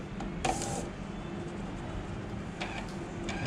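Inkjet printer starting up for a print job, a steady low mechanical whir with brief louder carriage bursts near the start and end.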